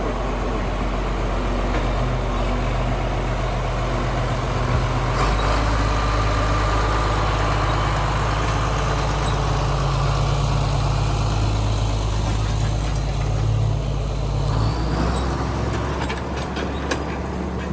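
Two John Deere 4440 tractors idling on a farm, a steady low diesel rumble that holds constant throughout, close and fairly loud with no voices.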